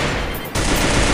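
Rapid gunfire in the mobile game Free Fire, with a dense burst of shots, a brief lull, then another loud sustained volley, close and harsh.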